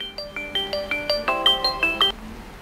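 A mobile phone rings for an incoming call in a rental office setting, playing a bright melodic ringtone of repeated chiming notes for about two seconds before cutting off.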